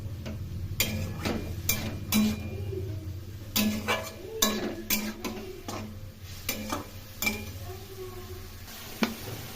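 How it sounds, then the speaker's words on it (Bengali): Ground cumin, coriander, ginger and chilli paste with a green and a dried chilli being sautéed in a pan for broccoli curry, heard as irregular sharp spoon clinks and scrapes against the metal over a low, steady hum. "এখন ভালো করে কষিয়ে নেব।"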